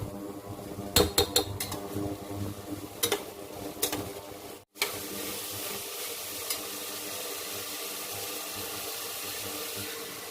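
Dal with ginger is stirred in a cooking pot, producing faint scraping and clinking of a utensil against metal, a few sharper knocks early on, then a soft steady background.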